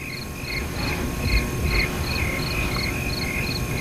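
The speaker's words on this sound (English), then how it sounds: "You got crickets anyway. And tons of crickets out there." Crickets chirp outside at night in a steady, evenly spaced pulsing trill, fairly close and continuous over a soft background hiss, with no voices.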